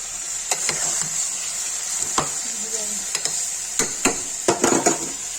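Intermittent scraping and clinking of a spoon stirring soya chunk curry with turmeric and red chili in a pressure cooker, with a steady hiss of sizzling underneath.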